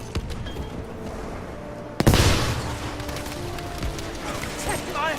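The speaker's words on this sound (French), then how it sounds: "Grenade." A grenade explodes in the shooter game Battlefield V with a sudden loud boom that rolls off into a rumbling tail, with scattered gunfire and battle noise around it and a voice speaking over the mix.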